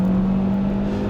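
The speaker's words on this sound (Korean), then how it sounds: "이렇게 꾹 RPM을 쫙 쥐어짜면서 가속을 할 때 보면" A new Hyundai Avante compact sedan's engine revs hard under acceleration, a loud sustained droning whine held steady at high RPM, close and alone.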